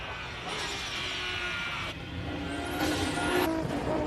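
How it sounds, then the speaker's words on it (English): A Nissan Skyline R32 race car climbs a hill-climb course, its engine droning loudly at a distance and building as it accelerates, with shifts and a rising pitch toward the end. "One of my personal favorites up the hill, the R32. Makes a wonderful noise."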